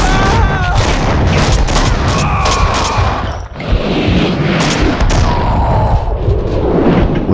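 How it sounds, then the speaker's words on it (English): Heavy gunfire in the shooter game Max Payne 2 fills the scene with dense, loud bursts and booming shots layered over one another, continuous and close, with a voice talking underneath. "Someone must have heard the gunfire."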